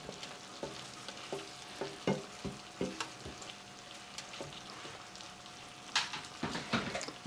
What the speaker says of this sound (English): Usually a minute is what you want to saute your garlic for.